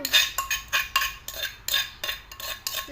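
A spoon scooping som tam papaya salad from a dish, with repeated scraping clinks and moist rustles coming in a steady rhythm roughly twice a second, close and fairly loud.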